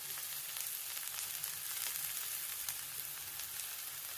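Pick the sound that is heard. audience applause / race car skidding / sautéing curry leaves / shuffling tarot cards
sautéing curry leaves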